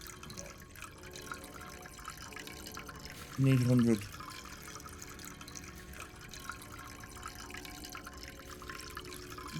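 Liquid chocolate poured from a pot in a chocolate factory simulator game, a brief gurgling pour of under a second, while someone talks over a soft background.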